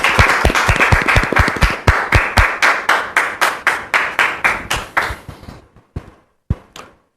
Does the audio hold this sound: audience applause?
yes